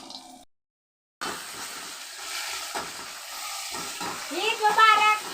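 Cashew nuts frying in hot oil for semiya give a steady close sizzle and hiss with stirring scrapes, the bubbling growing louder toward the end, while a voice talks over it.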